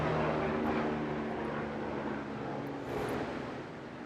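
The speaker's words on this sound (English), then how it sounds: "Wait for this air helicopter to go by." A helicopter passing overhead, heard as a steady broadband rotor and engine roar that swells slightly near the start and again around three seconds, continuous and fairly loud with no talk.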